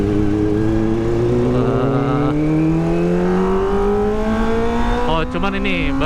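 A Kawasaki ZX25R four-cylinder motorcycle engine hums steadily while ridden at low RPM, its rising whine loud and close throughout, with a brief dip near the end.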